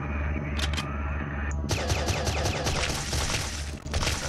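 Minigun fire in Zombotron 2, a dense, fast stream of mechanical shots running almost continuously, preceded by a couple of brief clicks and whirs over a low droning background.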